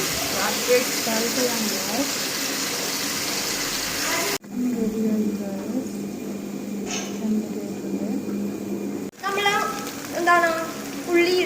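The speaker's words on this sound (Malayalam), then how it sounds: "ചിക്കൻ പൊരിക്കുകയാണ് കേട്ടോ" Chicken sizzles and crackles in hot oil, a loud steady frying hiss broken by brief pauses, with a voice talking over it at times.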